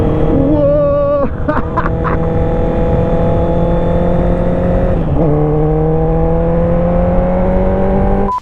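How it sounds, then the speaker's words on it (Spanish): A Honda CB650R four-cylinder motorcycle with a full exhaust system revs hard and close. The engine pitch climbs and drops in repeated sweeps, then holds a loud, sustained wail. "Hoy día tenemos esta Honda CB650R, uno de los pocos unicornios de 4 cilindros que quedan en el mercado"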